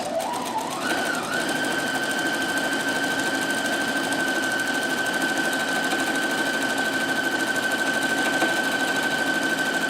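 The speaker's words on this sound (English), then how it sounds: "So I'm just going to do a little fancier stitch for a bit of fun." A Husqvarna Viking Platinum Plus sewing machine stitches a fancy pattern with an embroidery needle, its motor whirring at a steady high pitch after a short rise, with a fast even needle patter throughout.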